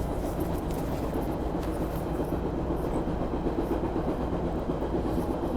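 Subway car rolling between stations during a morning commute, a dense, continuous low rumble and rattle of wheels on track filling the whole stretch, steady and fairly loud with faint metallic clatter on top and no talking.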